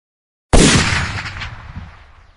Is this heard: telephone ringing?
no